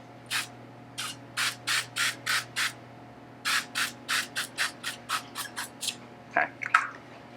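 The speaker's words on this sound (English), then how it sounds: "So I'm just gonna spray the whole top with a little bit of avocado spray" Avocado oil cooking spray hissing onto a muffin pan, a series of short, close, sharp bursts, six in a quick row, then a pause and about ten more in a tighter run, with a soft clatter at the end.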